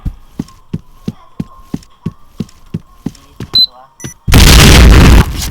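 A planted bomb in a video game ticks in a regular series of beeping pulses that speed up, followed by a loud, sustained explosion blast lasting about a second.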